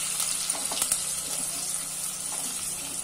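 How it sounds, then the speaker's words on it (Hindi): Mustard seeds, curry leaves and onion fry in hot oil, a steady close sizzle with a few small pops early on and no voices. "थोड़ी राई, कड़ी पत्ता, थोड़ी सी प्याज, फ्राई कर लेंगे"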